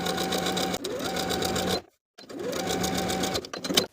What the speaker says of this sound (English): we're going to edge stitch close to that bottom folded edge of the bias tape from center back to center back